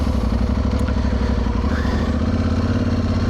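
An Aprilia Tuareg Rally motorcycle on STR tires rides along, its engine thrumming with a steady, pulsing low rumble, loud and close throughout with no speech.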